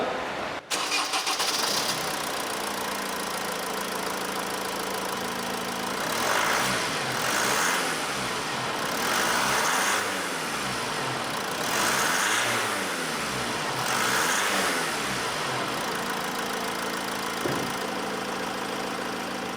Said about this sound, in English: Right, let's see if this thing fires up.